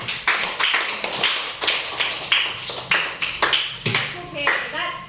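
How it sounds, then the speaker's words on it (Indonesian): Classroom applause for a group of sixth-grade students, a run of sharp hand claps and taps with lively voices mixed in, fairly close and steady for several seconds. "Tepuk tangan untuk kelompok 2."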